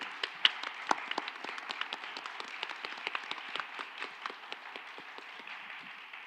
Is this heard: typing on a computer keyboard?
no